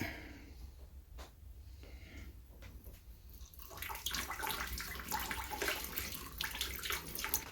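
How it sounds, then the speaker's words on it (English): Grease is poured off a pan of cooked hamburger meat during chili-making on a wood stove, giving a continuous liquid pouring and splashing sound that grows louder partway through, with no talking. "Now we'll drain the hamburger meat."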